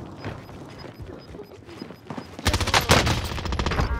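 Submachine gun fire in the Call of Duty Warzone video game on Rebirth Island, with a Bizon SMG in play: scattered quieter shots at first, then a loud sustained burst of rapid automatic fire close by.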